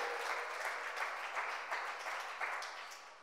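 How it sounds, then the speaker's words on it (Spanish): A church congregation applauds at a Spanish-language service, a fairly quiet, steady wash of clapping that swells in a few soft waves and fades slightly toward the end. "dele un aplauso si le va a dar al Señor"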